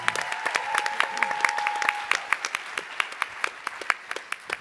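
Applause at a student sports-initiative pitch event, many hands clapping in a steady burst that thins to scattered individual claps near the end, with a brief tone early on.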